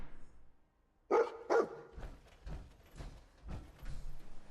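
Dogmeat, the dog companion in Fallout 4, barks several times in a short burst inside a game interior, sharp close barks followed by softer yips and rustling.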